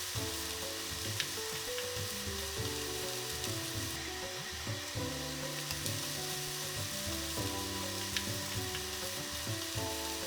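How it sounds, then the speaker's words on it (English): Okra (bhindi) cooking in a pan, a low continuous sizzle with faint crackling, quiet and steady throughout under a background hum, with no talking. "And you'll just cover that and let it cook for about 10 minutes."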